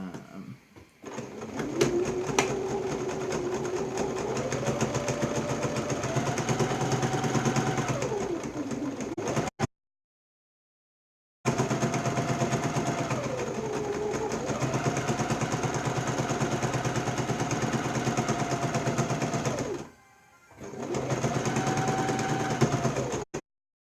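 A sewing machine runs steadily through thin fabric during a home craft session, its motor whirring in long continuous stretches that rise and fall in speed, broken by two short pauses.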